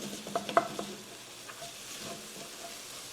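Chili sizzles quietly in a pot as a utensil stirs it, with a few sharp scrapes and taps near the start and then softer, sparse stirring sounds.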